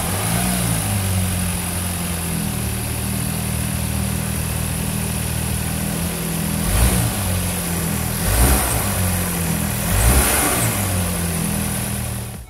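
A 2021 facelift MINI Cooper idles with a steady engine hum, then revs three times in quick swells before settling back, close and loud throughout.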